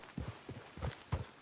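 Horse hooves clip-clopping at a walk in Red Dead Redemption 2, a steady four-beat rhythm of soft, close thuds repeating through the whole stretch with no talk over them.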